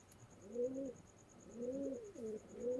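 Chinese Teddy pigeons, a running pair of high-flying birds, coo in repeated low throaty phrases, three distinct bouts close by and moderately loud with no talk.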